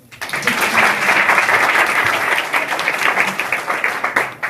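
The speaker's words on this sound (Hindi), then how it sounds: "इनके लिए पहले ताली बजाओ" A roomful of students at an intercollege school event claps in sustained applause, dense and loud, fading slightly toward the end.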